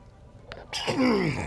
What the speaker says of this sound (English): Trying not to sneeze on recording, but too late.